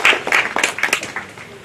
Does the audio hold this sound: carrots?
no